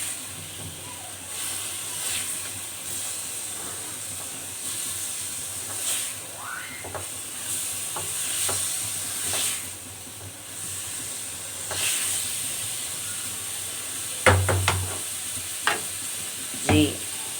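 Keema, minced meat, is being stirred and fried with tomatoes in a pan, giving a steady soft sizzle with scattered scraping strokes and a few louder clinks near the end, no voices.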